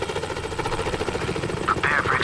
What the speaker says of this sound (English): just before we escape, our extraction chopper is shot down by Saunders piloting his own